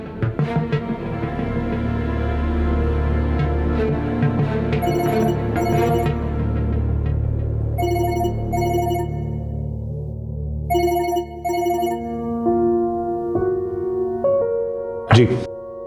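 A telephone rings unanswered with a melodic electronic ringtone, repeating in short bursts for the whole stretch, moderately loud alongside voices.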